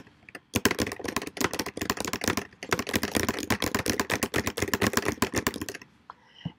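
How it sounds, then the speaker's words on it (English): Rapid, steady keystrokes on a computer keyboard, close and clear, keep up a continuous clatter for about six seconds before stopping. "Now I can go down here where I have questions that I need to answer, and I can just start typing things."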